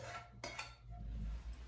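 Shrimp tipped into a pan of mixed filling and stirred, giving soft metallic clinks of a utensil against the pan, a couple of sharper knocks early on, then a low scraping shuffle, all quiet and close.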